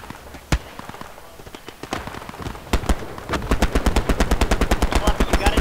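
Machine gun fire in the World War II shooter Hell Let Loose: a few scattered shots build into a fast, loud, steady burst of rapid rounds close by.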